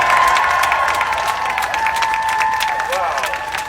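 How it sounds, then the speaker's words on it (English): Outdoor crowd at a children's march claps and cheers for teachers, a sustained roar of applause with shouts and a tonal whistle-like sound running through it. "Clap it up for your New York State teachers."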